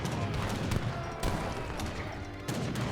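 Gatling guns firing in a multiplayer video game battle, dense rapid volleys of crackling shots rolling on almost without pause, loud and close, with brief lulls between bursts.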